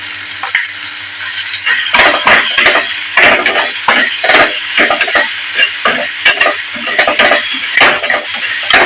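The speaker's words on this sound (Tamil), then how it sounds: "இந்த வெங்காயம் பூண்டு எல்லாம் நல்லா வதங்கி வந்துருச்சுங்க" Onion, garlic and crushed pepper, cumin and coriander crackle and sizzle in hot tempering oil, with a steady frying hiss broken by repeated bursts of spluttering and the scrape of stirring, close and fairly loud.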